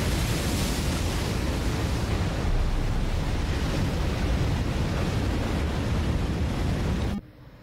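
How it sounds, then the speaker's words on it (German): Water waves from a short film roll in as a loud, continuous roaring wash that stays dense and steady, then cuts off abruptly near the end, leaving a much quieter tail. "Noch mehr Wasser."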